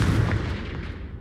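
A Confringo spell blast in a Harry Potter video game, a single booming burst with a deep low rumble that fades out over about a second, alone with no talk.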